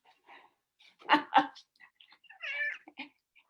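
Cats meow close by, with a pair of louder, drawn-out meows followed by a higher, whining cry and a few softer short mews in between.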